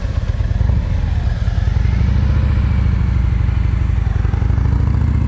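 A motorcycle in slow-speed riding practice rolls to a smooth stop, its engine a steady, loud low rumble up close with a constant idle-like throb and faint clatter throughout.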